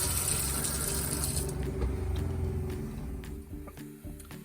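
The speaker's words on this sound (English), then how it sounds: "And it gives you running water." Running water from a kitchen sink faucet in a bus conversion, a steady broadband rush that is loud at first and then settles lower, with faint clicks and a low hum beneath, no voices.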